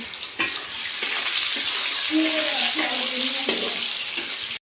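Chopped onions frying in hot oil with mustard seeds for a cauliflower-potato curry, a loud continuous bright sizzle throughout with brief clinks of stirring and some faint background sounds, no talking.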